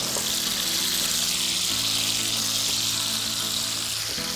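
Pork loin with onion sizzling in a hot pan, a steady broadband frying hiss with a low hum beneath, close and continuous.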